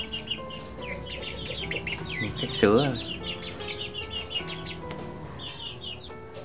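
Two-month-old Tan Chau bantam chickens cluck and chirp nearby in scattered calls, with one louder squawk in the middle, while a person talks briefly over them.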